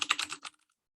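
Quick run of computer keyboard keystrokes, close and crisp, about half a second of rapid taps as a quote is retyped, then silence.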